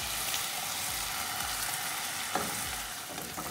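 A freshly made spice paste, with salt and turmeric powder, is stirred in a hot pan for a Kerala sadya dish, giving a continuous frying sizzle broken by soft scrapes and one sharper knock.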